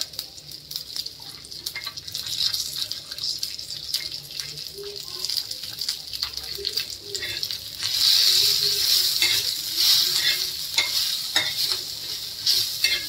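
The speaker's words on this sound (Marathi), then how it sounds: "मोहरी भाजूया थोडीशी। थोडीशी मेथी दाणे टाकते, लसूण टाकते" Mustard seeds, fenugreek seeds and garlic sizzle and crackle in a hot pan, with a steady frying hiss that grows louder midway and occasional spoon scrapes while someone talks quietly over it.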